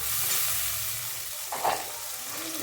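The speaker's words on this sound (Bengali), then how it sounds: "মশলাটা একটু কষিয়ে নিই।" Ginger, cumin, chili and turmeric paste sizzles steadily in a hot pan as it is sautéed, a dense, close frying hiss with a brief stirring scrape partway through.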